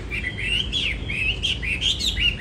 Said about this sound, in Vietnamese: Hót rất là nhiều ở đây, hót rất là nhiều nha anh em.